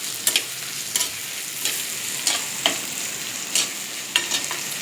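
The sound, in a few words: tomatoes and onions sautéing and being stirred in clay pot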